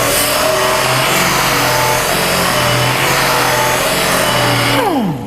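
An angle grinder works thin sheet metal for car body repair, a steady, loud, continuous whine and hiss that runs unbroken before the motor winds down at the very end.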